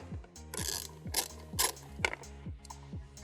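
Fasteners on a headlight wiring harness for a 2015-2022 Chevy Colorado full LED headlight install are loosened with a ratcheting tool, producing a steady train of close, repeated mechanical clicks with occasional brighter metallic ticks and no talking.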